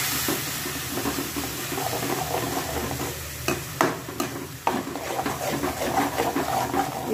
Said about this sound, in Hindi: अभी जो हमने मसाला पीस के रखा है प्याज काजू लहसुन वो डाल देंगे